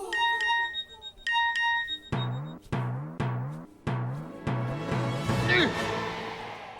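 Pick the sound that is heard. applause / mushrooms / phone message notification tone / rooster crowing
phone message notification tone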